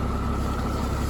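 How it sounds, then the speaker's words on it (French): A Mercedes W140 turbo diesel engine idles with a steady, low, even clatter, close and continuous throughout. "le bon vieux turbo diesel"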